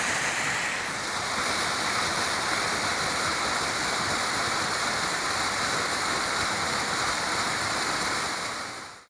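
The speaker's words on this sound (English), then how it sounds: "And got a beautiful waterfall here." A waterfall in the woods along a hiking trail over White Top roars steadily and loudly at close range, a dense unbroken rush of falling water with no voices.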